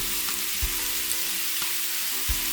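Beef and broccoli stir-frying in a hot wok, a steady loud sizzle with a few sharp knocks of the spatula against the metal, heard alone without talk.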